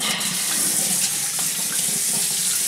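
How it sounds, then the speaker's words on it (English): Running water from a tap rinses soap off a Yorkie's feet during a bath, a steady close rushing flow with soft splashes and no talking. "always make sure you rinse the back end really well"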